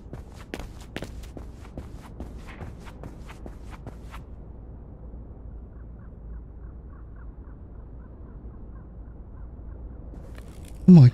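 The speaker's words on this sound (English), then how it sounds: "Oh, here's footsteps." Footsteps in the surreal game Industria, a run of sharp, evenly spaced steps early on that fade into quieter shuffling over a low ambient hum, ending in a sudden louder burst.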